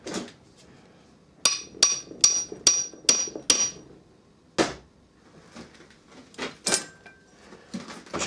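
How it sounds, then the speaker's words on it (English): A hammer drives a spindle into a lathe headstock with six sharp, ringing metal strikes in a steady series, then a few scattered knocks and clanks of metal parts follow. "I can use a hammer on this because I'm going to turn this end anyway."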